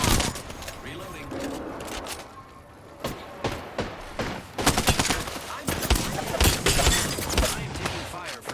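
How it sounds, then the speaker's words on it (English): Rapid video game gunfire in a multiplayer shooter, bursts of sharp shots and impacts clustered irregularly, loud and close, with a voice talking between the volleys. "I am taking fire, friends."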